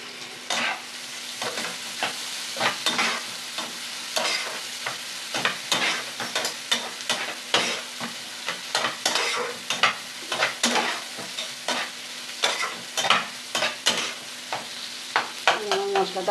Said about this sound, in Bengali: পাঁচ মিনিট ভালো করে মশলাটাকে কষিয়ে নিতে হবে।